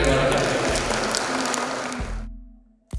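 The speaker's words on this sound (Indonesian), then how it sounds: "Tepuk tangan untuk RSUD Waluyo Jati." An audience at a hospital gathering with its referral network applauds RSUD Waluyo Jati hospital. The clapping is dense and sustained for about two seconds and then fades out, followed by a short tonal hum and a brief thump at the end.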